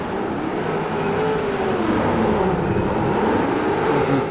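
Off-road racing trucks in the video game DIRT 4, a loud, continuous engine roar that rises and falls in pitch as the trucks race, with no voices.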